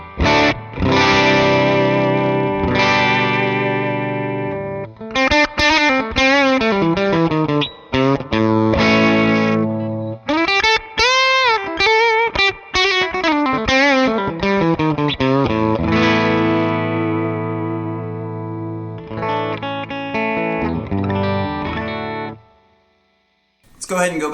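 Overdriven electric guitar played through a Fender Super Sonic 22 head with the fat switch engaged, mid-heavy and sitting right at breakup: loud, sustained chords and single-note runs with short gaps, fading out near the end.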